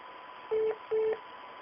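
Two short electronic telephone tones, evenly spaced and fairly quiet, sound over a faint line hiss as a call is transferred through to a sheriff's office voicemail.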